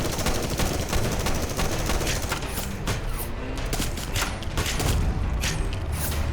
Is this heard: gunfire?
yes